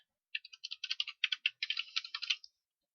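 Quick, light keystrokes on a computer keyboard form a rapid run of soft clicks lasting about two seconds, close and quiet, with no speech.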